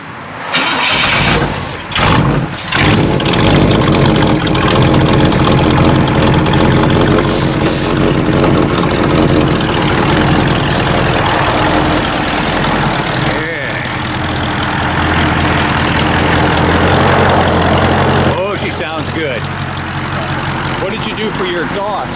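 Cadillac V8 with cheap turbo mufflers cranks and catches, then settles into a loud, rough, close idle with occasional revs, voices talking over it at times.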